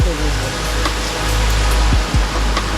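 Steady broadband rush of a flowing mountain stream, loud and close, filling the whole clip with a constant hiss.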